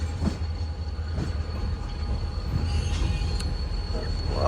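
Pakistan Railways GMU and two AGE30 diesel locomotives, numbers 6005 and 6017, at Multan shed, giving a steady low rumble with faint wheel and rail sounds throughout, no talk.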